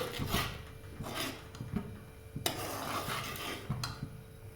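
A spoon stirring boiling milk in a pan on a gas stove, heard as steady close scraping and clinking strokes against the metal in an irregular rhythm, fairly quiet with no talk.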